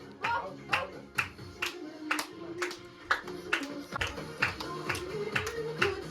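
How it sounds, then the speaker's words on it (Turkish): A group claps hands in a steady rhythm at a child's third birthday party, with sharp, close claps about twice a second and faint voices and shuffling underneath. "Alkış yapın oynayın."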